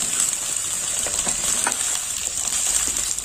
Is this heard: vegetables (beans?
yes